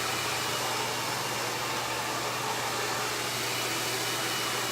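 A Salon Pro hair dryer blows steadily at close range, a continuous loud whooshing roar with a low hum underneath, no pauses.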